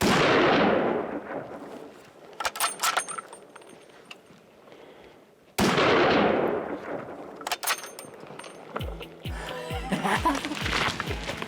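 Two loud rifle shots ring out at a bull during a hunt, each with a long rolling echo fading across open country. Metallic rattles and clicks follow, along with faint low voices.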